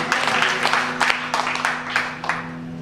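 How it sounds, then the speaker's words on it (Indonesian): Church congregation at a worship service claps in steady rhythmic bursts roughly twice a second over a low sustained background tone. "Tepuk tangan buat Tuhan kita"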